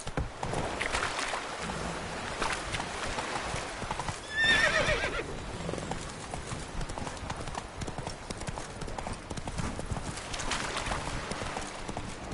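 Roach the horse gallops in The Witcher game, a steady rapid clip-clop of hooves with a whinny midway, running under ambient game sound without talk.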